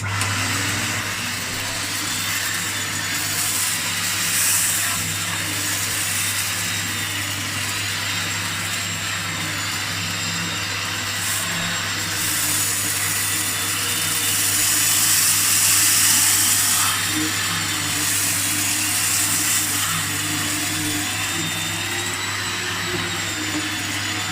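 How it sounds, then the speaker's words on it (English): A HooverLux vacuum cleaner runs steadily and loudly throughout, its motor drone holding a constant pitch with a high whine on top and only slight swells in level, with no talking. "It's a lovely thing to just use to vacuum."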